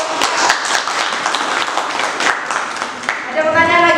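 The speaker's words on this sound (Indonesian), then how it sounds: "Iya, tepuk tangan untuk" Classroom applause for a group presentation, a dense wash of clapping from many hands that continues steadily and begins to fade near the end as a voice starts speaking.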